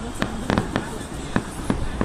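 Fireworks bursting in a celebratory salute marking 71 years, a string of sharp, separate bangs at irregular intervals, some doubled, over a low outdoor murmur.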